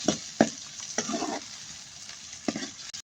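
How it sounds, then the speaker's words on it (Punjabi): Onions frying in a pan for a Punjabi cholai saag, a steady soft sizzle with a few distinct scraping stirs of a spoon against the pan, close and alone without talk. "ਪਿਆਜ਼ ਇਹਨਾਂ ਨੂੰ ਭੁੰਨ ਲੈਣੇ ਆ"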